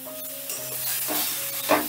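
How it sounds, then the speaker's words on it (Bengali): Raw mango pickle with spices stirred in a pan over low gas heat: close spoon scrapes and soft sizzling, a few strokes over a low steady hum, with a brighter scrape near the end. "এবারে গ্যাসের আঁচটা লোতে রেখেই আমি এটাকে বেশ ভালো করে মিশিয়ে নেব।"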